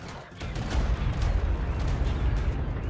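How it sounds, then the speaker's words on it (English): Explosions in the video game ARK Primal Nemesis, heard as a sustained, loud, rumbling blast of booming noise that rolls on for the whole stretch with no talk. "It's always like unnerving when you hear that explosion sound."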